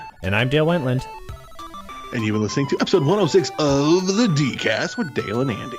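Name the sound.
telephone ringing in the room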